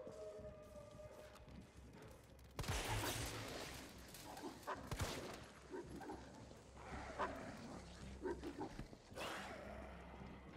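Dogs in the game Resident Evil 3 barking and snarling amid frantic in-game action, a close loud burst followed by repeated growling barks over rumbling noise, quite faint overall.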